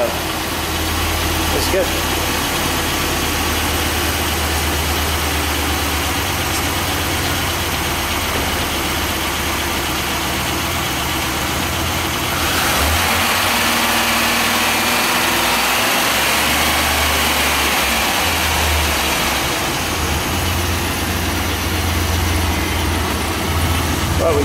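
A Chevrolet Impala SS engine idles steadily with a low, continuous rumble and slight vibration, left running after a battery replacement, while people talk briefly nearby.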